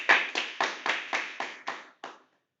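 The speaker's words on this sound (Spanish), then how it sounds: "Un aplauso." Claps of a small audience at a math talk come in a slow, even series of about eight strokes that thin out and stop, heard up close with nothing else around.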